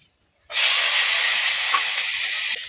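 Chopped garlic and black cumin hit hot oil in a kadai with a sudden loud burst of sizzling hiss that holds steady and close for the rest of the moment, no voices.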